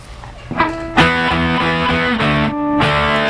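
An electric guitar with heavy distortion plays picked notes that ring on as sustained, overdriven tones, close and loud, with no voices.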